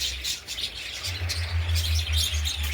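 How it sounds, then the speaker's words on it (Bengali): Many birds chirp and tweet together in a netted garden beside a temple, a dense, continuous chatter of overlapping calls over a low steady hum. "এখানে অজস্র পাখি, এই যে দেখতে পাচ্ছেন একদম জালে বসে আছে, অজস্র পাখি রয়েছে।"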